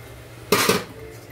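A utensil gives one short metallic scrape and knock against a pressure cooker while jackfruit curry with added hot water is stirred, standing out briefly against a quiet background.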